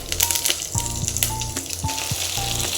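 Fish pieces fry in coconut oil with fennel and curry leaves, a loud steady sizzle with intermittent spatters and a few light clinks of utensils against the pan, no voices.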